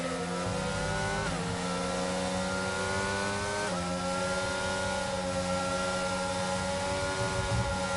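Formula 1 race car engines in a Saudi Arabian Grand Prix league race scream at high pitch with steady revving and two sharp gear shifts, cars running close together through corners, loud and continuous with no talk.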